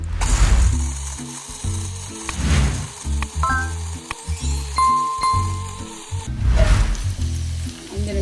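A mixer grinder whirs while grinding cashew nuts for a vegetable kurma, its motor rattling and churning in uneven surges with louder bursts now and then over several seconds.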